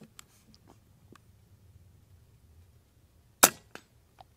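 An Avenge-X Classic .177 air rifle fires a JSB slug at a 100-yard steel target, heard as one sharp crack, then a fainter ping of the hit a moment later, with small handling clicks before.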